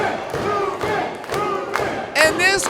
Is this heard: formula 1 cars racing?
no